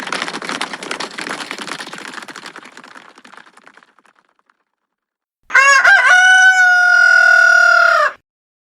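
A rooster crows at dawn in a village as an audiobook sound effect: a single long, loud cock-a-doodle-doo rings out alone after fading scratchy, clucking noises and a brief silence.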